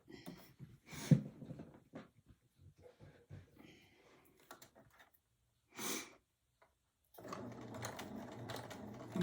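A sewing machine stitches a fabric hem with the presser foot guided along the edge, running in a few short quiet bursts and then a longer steady run near the end.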